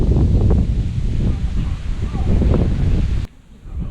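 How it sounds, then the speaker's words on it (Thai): Strong wind gusting through trees, a loud rushing roar with heavy buffeting on the microphone that cuts out abruptly near the end, leaving only faint background. "นี่ก็ลมมากครับ"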